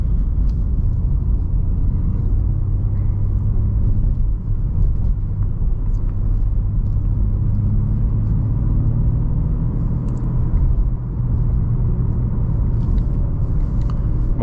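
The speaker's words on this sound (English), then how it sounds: "Most of the time I keep it in third gear, drive at around 2200 RPM, and do not push the car because it makes no sense." A manual BMW M3 G80 cruises in third gear at low revs on Romanian roads, its engine and tire noise making a steady deep rumble with no voices.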